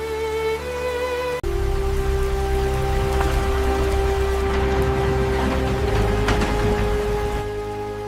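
Steady rain pours down over the wreckage of a collapsed building, a dense even hiss that starts abruptly after a brief tonal opening and continues loud and unbroken.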